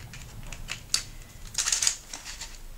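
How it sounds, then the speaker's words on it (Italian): A small box of Pelikan pastels being opened: soft cardboard and plastic clicks and rustles, with a sharp tap near one second and a short cluster of crisp clicks a little later, fairly quiet and close, with no talk. "Quindi apriamo la scatolina."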